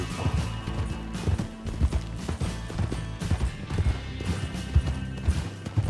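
Horse hooves clip-clopping in the Western video game Red Dead Redemption, a steady rapid trot of hoofbeats with low rumbling game sounds underneath, fairly close and continuous.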